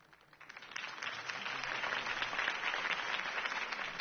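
A crowd in a PS4 video game applauds a political campaign speech for Harvey Dent in the city, a band-limited wash of clapping that swells in after a quieter start and holds steady.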